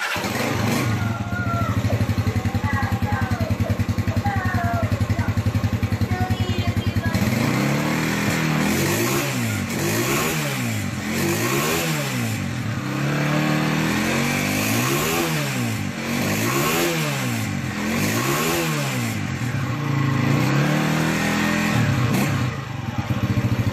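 A CG 150cc motorcycle engine idles unevenly, then revs again and again in a steady rhythm of rising and falling throttle blips, loud and close, with no talking.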